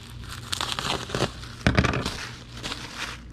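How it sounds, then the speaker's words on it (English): Crinkling and crackling of a sheet of bubble wrap being handled and cut while packing a Monogram model kit into a shipping box, in short uneven bursts with a sharper crunch midway. "let's get a sheet of bubble wrap and cut it in half"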